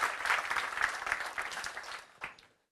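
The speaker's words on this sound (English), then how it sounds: "So give them a round of applause." An audience at a youth summit in Stockholm applauds, a dense wash of clapping that thins out and ends abruptly in silence.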